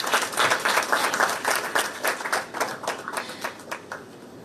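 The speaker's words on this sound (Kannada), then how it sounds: "ಚಪ್ಪಾಳೆ ಸದ್ದು ಕೇಳಿಸ್ತೀರಾ ಆಡಿಯನ್ಸ್" Audience clapping at the Yuddhakanda 2 film trailer launch event, a dense burst of many hands applauding close and loud, gradually thinning out toward the end.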